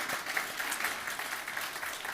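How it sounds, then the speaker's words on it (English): Church congregation giving a round of applause for three young women after a performance, steady mid-level clapping from many hands across the room, no talking. "let's give them another round of applause."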